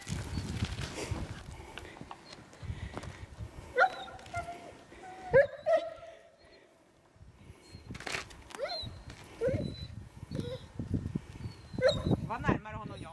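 A dog barks several times during a marking exercise against a decoy in police-style dog training outdoors, short sharp close barks scattered among frequent talk and shuffling, with people speaking throughout.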